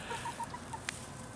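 Backyard homestead chickens clucking in the garden, a quick string of soft, faint clucks over a low outdoor background, followed by a brief sharper call.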